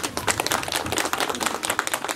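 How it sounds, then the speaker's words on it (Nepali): Crowd applause at a ceremony welcoming a guru to a family celebration, a dense, steady patter of many hands clapping close by for the whole stretch. "तालीले स्वागत गरौँ"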